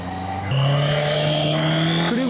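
A loud, close car engine drones steadily and rises in pitch as a vehicle pulls up and runs right alongside, heard from a traffic lane.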